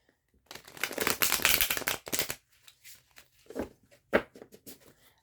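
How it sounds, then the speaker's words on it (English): Tarot cards are riffled and shuffled by hand in a quiet room: a dense run of crisp flutters gives way to a few scattered taps and slides. "Let's give these a shuffle and we'll move on to Libra."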